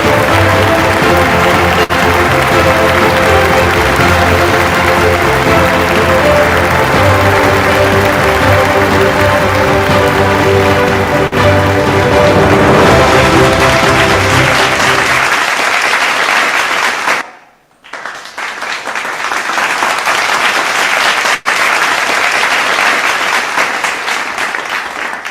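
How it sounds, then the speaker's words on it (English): A large audience at an awards ceremony applauds and cheers the winners, a dense sustained roar of clapping that briefly breaks off before resuming. "I love the way everyone is cheering"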